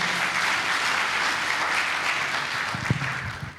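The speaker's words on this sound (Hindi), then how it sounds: "जोरदार ताली बजाएंगे।" A workshop audience on religious conversion in Balaghat, Chhattisgarh, gives loud, dense, sustained applause from many hands that stays steady for several seconds, with a few low voices and thumps near the end.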